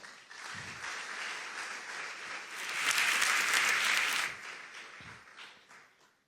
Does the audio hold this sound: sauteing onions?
no